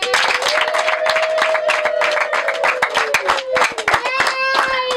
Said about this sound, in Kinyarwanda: Angera Imana amashyi